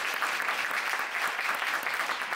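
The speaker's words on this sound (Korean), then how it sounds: "중간 박수 한번 부탁드리겠습니다" Lecture audience clapping together, a dense, steady wash of applause that stays even and fairly loud throughout the short stretch, with no voices over it.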